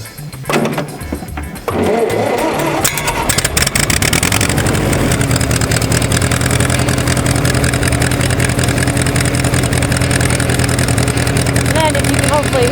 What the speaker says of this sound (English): Okay, I'm gonna start the tractor.